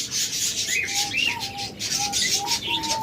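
A pair of lovebirds in a cage give short, repeated chirps and whistled calls at a close, steady level, over a constant rasping, rubbing noise.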